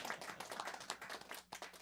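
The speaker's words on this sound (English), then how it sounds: "Yeah, you can applaud." Audience applause at a live jazz concert in a small venue, a short burst of clapping from a modest crowd, fairly close and fading slightly toward the end.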